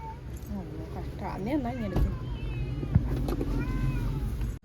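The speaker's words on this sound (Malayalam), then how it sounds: "രണ്ട് പൂച്ചകൾ" Two cats meowing with rising, wavering cries, a few calls in succession, heard close over steady background rumble and some voices.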